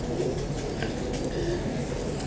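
A Durdur breeder pigeon coos softly in low, muffled tones amid a busy background, with people talking nearby.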